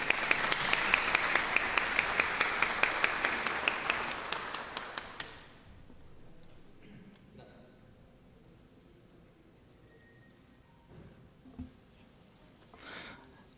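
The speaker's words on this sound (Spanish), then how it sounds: "Recibimos pues al doctor Juan Antonio Bazán Chávez con un fuerte voto de aplauso" A conference audience at the Congress of the Republic applauds a guest speaker with loud, dense clapping that fades out after about five seconds, leaving a quiet room.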